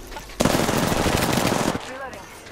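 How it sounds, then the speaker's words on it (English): Rapid automatic gunfire in the video game Apex Legends, a loud dense burst lasting over a second before cutting off, with voices talking briefly afterward. "Getting shot at."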